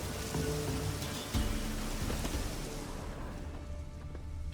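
Rain falls in The Witcher 3 video game, a steady wash of drops pattering on the ground under faint low ambience, fading gently toward the end.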